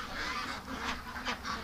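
A few quacks and honking calls from ducks gathered at the gate of their pen, including a wild duck, sounding close and fairly steady over a low outdoor background.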